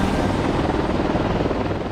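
A Cobra combat helicopter on a military base gives off a loud, continuous rotor drone with a rapid, even pulsing throb and steady engine roar.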